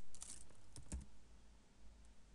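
Quiet, close clicks of typing on a computer keyboard, a short burst of keystrokes early on followed by sparse taps, with faint room hiss and no talking.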